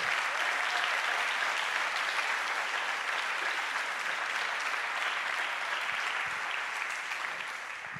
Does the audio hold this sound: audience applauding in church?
yes